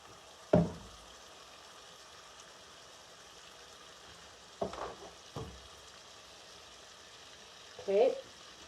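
Bologna frying in margarine in a pan gives a few faint, brief sizzling bursts and pan clatters, separated by long quiet stretches of low background hiss.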